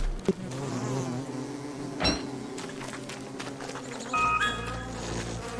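Bees buzz in the video game Don't Starve Together, a steady insect drone with a sharp knock midway and a brief brighter tone near the end.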